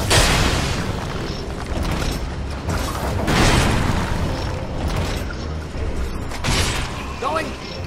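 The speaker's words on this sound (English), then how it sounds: "Get on the ballista now." A ballista fires in Dark Souls, several loud booming shots with mechanical creaks and clanks in a busy battle soundscape, recurring every second or two.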